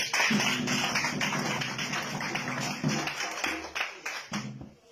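Audience clapping at a French-speaking gathering, a sustained run of close, loud hand claps with a voice talking underneath, thinning out toward the end.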